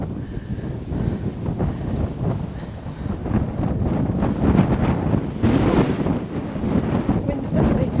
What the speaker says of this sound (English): Wind's definitely felt up here.